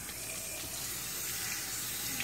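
Steady running water from a tap during a Chihuahua's bath rinse, a continuous close hiss and splash with no break, fairly quiet overall.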